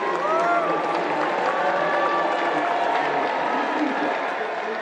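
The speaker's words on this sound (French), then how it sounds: "un retour victorieux de Maxime Guyon, applaudi par le public nombreux à Longchamp" A large racecourse crowd at Longchamp applauds the winning jockey after the Grand Prix de Paris, a dense, steady wash of clapping and murmuring heard from a distance, with a voice carrying over it.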